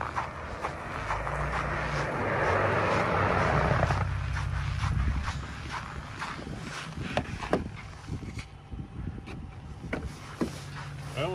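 A Ford Raptor pickup truck on a snowy road with snow tires, heard from inside the cab: a steady low engine and road rumble that swells then settles, with faint knocks and rattles.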